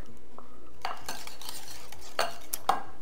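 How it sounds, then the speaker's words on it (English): A whisk works through a bowl of sour cream mixture for homemade ranch dressing, giving a few quiet, scattered clinks and scrapes against the bowl with near silence between them and no voices. "So I'm going to blend those together really well with my whisk."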